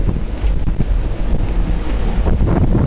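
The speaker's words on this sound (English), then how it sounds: "There's a big wave there." A big ocean wave strikes a racing sailboat at sea during the Vendee Globe, a loud continuous rush of wind and water buffeting the hull and microphone, with surging thumps and no talking.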